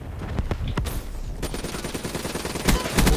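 Multiplayer gunfire in the video game Black Ops 3: repeated shots in an uneven rhythm, with a denser, louder burst near the end, mixed with game background sound.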